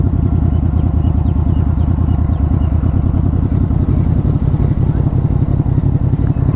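A QJmotor Flash 600 V4 motorcycle idles in first gear, its engine rumbling in a close, loud, rapid pulsing throb that stays steady for the whole stretch.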